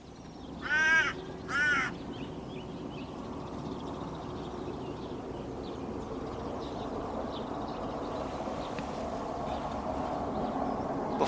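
Corvids out in the field, with two loud crows' caws close together near the start and then a long stretch of quiet, steady outdoor background.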